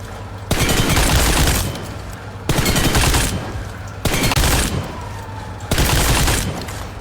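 Loud automatic gunfire from the mobile battle-royale game PUBG Mobile, four sustained bursts each lasting about a second with brief gaps between, close and dominant with no talk.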